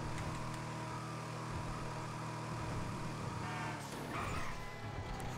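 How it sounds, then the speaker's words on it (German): A turbocharged car in GTA V Online drones with a steady engine hum under faint game sounds, swelling briefly near the end as the turbo spools. "wie du diesen Turbolader in dem Auto hörst"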